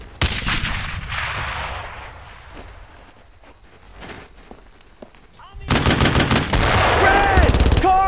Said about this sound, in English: You must have gotten around us and set up an MG on our flank!